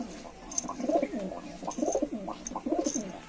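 Laldom pigeons coo close by in soft, repeated rolling bursts, several overlapping calls across a few seconds with no talk.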